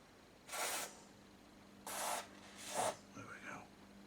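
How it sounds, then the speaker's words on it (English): An aerosol cleaner is sprayed onto the inputs of a Rowe AMI jukebox preamp in three close, short hissing bursts, followed by soft murmuring. "Let's give the inputs a bit of a spray."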